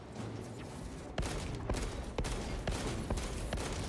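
Sniper gunfire in a video game, sharp distant cracks arriving irregularly, around half a dozen of them, over a steady background of battle noise, with no one talking.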